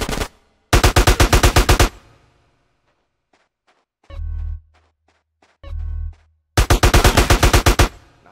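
Bursts of rapid automatic gunfire from GTA San Andreas, loud and close, with two heavier single thumps between the volleys and no talk.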